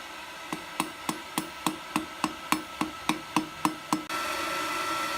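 A blacksmith hammers hot metal while shaping a bottle opener, about a dozen evenly spaced ringing hammer blows landing close and sharp, followed by a steady hiss of noise.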